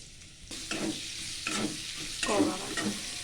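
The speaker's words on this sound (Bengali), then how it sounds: "তেল গরম হয়েছে, পেঁয়াজ দিয়ে দিব" Onions frying in hot oil for a spicy Bengali country-chicken bhuna, a steady broadband sizzle with repeated scraping stirs of a spatula in the pan, moderately close and without talk.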